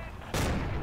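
Gunfire in Forgotten Hope 2 at Hurtgen Forest, a single sharp loud shot cracking out after a quiet moment, followed by a lingering rumbling tail.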